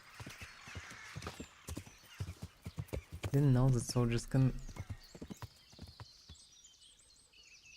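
Horse hooves clip-clop in a rapid, steady gallop in the medieval game Kingdom Come, with a loud neigh in the middle and someone talking over the hoofbeats.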